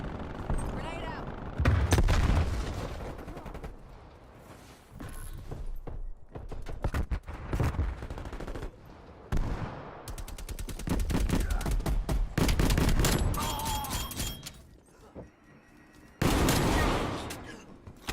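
In a Call of Duty 6v6 Strike match on the Crossroads map, loud bursts of automatic gunfire and explosive booms come close together in heavy clusters, with players talking in between.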